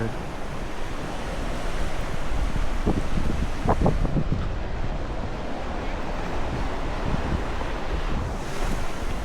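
Steady roar of sea waves breaking against the shore at Bekal Fort, mixed with gusty wind buffeting the microphone throughout.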